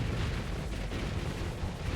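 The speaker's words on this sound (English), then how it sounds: "Torpedo!" Torpedo explosion in the space combat game Starsector, a dense, rumbling low blast that fills the whole moment with a steady roaring boom and no voices.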